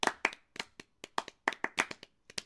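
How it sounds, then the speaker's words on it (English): A string of sharp claps, uneven and unhurried, about a dozen crisp hits with short gaps, close and clear with no talking. "Slow clap."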